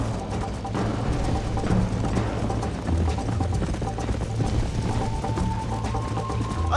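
Horses race in Red Dead Redemption with a dense, fast clip-clop of hooves rolling on steadily at close range, mixed with rattling tack and a brief snort.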